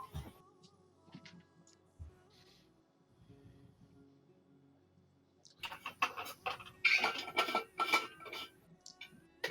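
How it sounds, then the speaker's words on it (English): A new water bottle is handled with faint scattered taps and rustles, then a busier stretch of close clattering and knocking. "It's her new water bottle."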